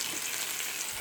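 Chicken sizzles softly in a pan over a low flame, a faint, even crackle lasting about a second with no voices.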